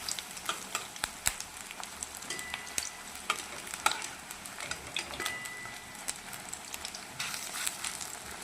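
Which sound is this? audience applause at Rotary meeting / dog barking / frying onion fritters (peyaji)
frying onion fritters (peyaji)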